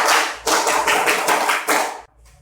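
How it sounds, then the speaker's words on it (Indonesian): A classroom of students performs the Pramuka scout clap, loud, close, rhythmic bursts of many hands clapping in quick patterned groups that stop abruptly after about two seconds. "Tepuk pramuka."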